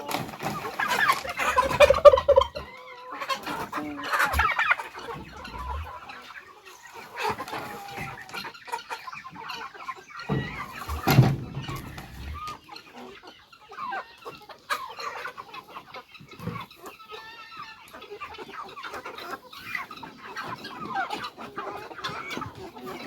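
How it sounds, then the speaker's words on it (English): Two-month-old chicks on a poultry farm, clucking and peeping in a steady busy chorus, with a few louder close calls and brief handling noises, no talking. "So these are our 2-month-old chicks."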